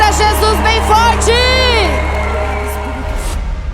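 A church congregation at a convention cheers and whoops loudly, voices rising and falling in shouts over a steady low hum, with scattered clapping fading toward the end.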